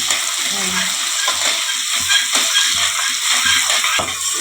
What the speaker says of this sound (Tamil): வெங்காயம் பார்த்தீங்கன்னா நல்லா பொன்னிறமாக வதங்கணும்.